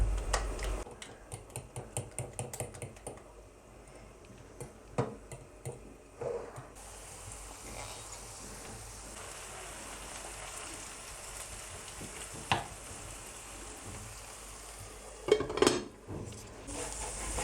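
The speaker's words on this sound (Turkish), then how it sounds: "Ve çatalla iyice karıştırmaya başlıyorum." A fork beats eggs in a bowl with quick rapid clinks at first, then scattered taps and scrapes over a quiet sizzling background.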